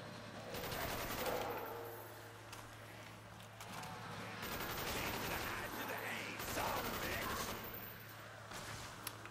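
Weapons fire in the Kino der Toten zombies map of Call of Duty Black Ops, rapid bursts of close automatic gunfire rattling in long volleys with mechanical clatter and a steady low hum underneath.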